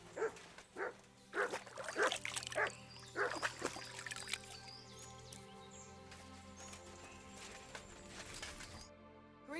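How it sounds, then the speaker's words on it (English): Dog in Kingdom Come Deliverance 2 giving several close, loud barks and yips in quick succession, then quieting under a sustained musical background. "Good dog, Mutt"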